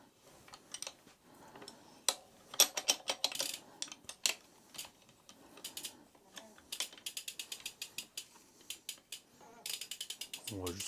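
A 15 mm wrench tightens the pedals on a 2024 Meybo Cruiser Superclass race BMX, giving quick ratcheting clicks in short, irregular runs, close and fairly quiet.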